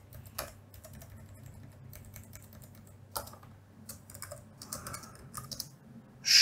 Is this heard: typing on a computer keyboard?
yes